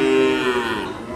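A single long, low moo from a cow at a livestock market, close and loud, fading slightly toward the end.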